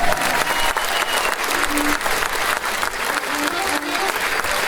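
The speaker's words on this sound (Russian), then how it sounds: "Аплодисменты." A concert audience at a live show applauds, a dense, loud wash of many clapping hands that holds steady throughout, with faint crowd murmur mixed in.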